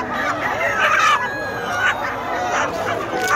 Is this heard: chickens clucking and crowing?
yes